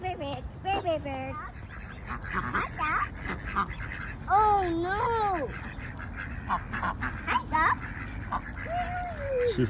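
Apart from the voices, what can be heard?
ducks quacking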